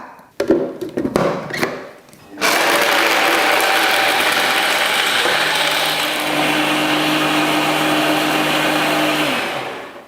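A countertop blender whirs loudly and steadily, blending a mocha frappe in a 16-ounce cup, preceded by a few clattering knocks before the motor starts and runs evenly for several seconds.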